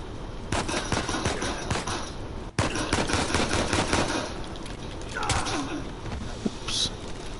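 Rapid pistol gunfire from the video game Drake's adventures, a dense run of sharp, loud shots in quick bursts with brief gaps, mixed with game ambience and someone talking over it.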